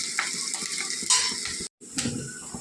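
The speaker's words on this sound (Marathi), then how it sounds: "पुन्हा त्याला 1 मिनिट मीडियम आचेवर कांदा परतून घेऊया" Chopped onion sautés in a pan over a medium flame for cauliflower bhaji, giving a steady crackling sizzle with scraping stirs and clinks of a spoon against the pot, broken by one brief silent gap.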